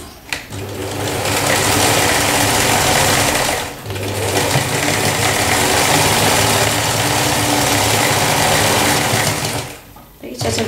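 A sewing machine runs steadily while darning a badly torn patch of denim jeans, loud and close, with a brief pause around the middle and a stop near the end.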